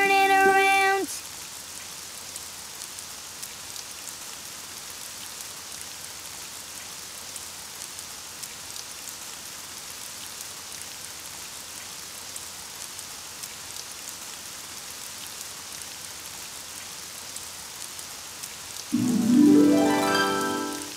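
Cartoon rain falling outside, a steady soft patter of drops that runs alone for most of the clip, with brief musical tones at the start and end.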